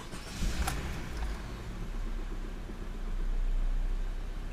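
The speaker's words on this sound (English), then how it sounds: "Now let's start the car." A 2016+ Honda HR-V engine starting after an oil change, a brief crank near the start settling into a low, steady idle that swells slightly toward the end, recorded close by.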